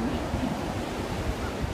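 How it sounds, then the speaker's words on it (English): Ocean waves wash continuously onto an island shore, a dense steady roar mixed with wind buffeting the microphone, with no distinct breaks. "Look at all those waves!"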